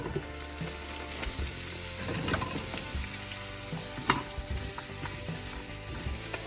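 Potatoes fry in a heated pan, a continuous close sizzle with crackling bursts and occasional scraping as they are stirred.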